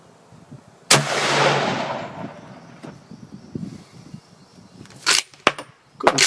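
A Remington 7600 pump rifle in .308 fired outdoors without a muzzle brake: one loud, sharp report with a long rolling echo, followed seconds later by several quick metallic clacks.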